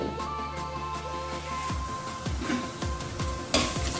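Whole spices such as cloves, cardamom and bay leaf being sautéed in ghee in a pan for Kerala-style paneer masala: a steady sizzle with scraping stirring strokes, close and fairly loud.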